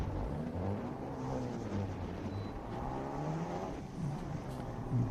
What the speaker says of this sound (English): Bruce Van Hoosen in the Civic Sport in H class. H Street taking off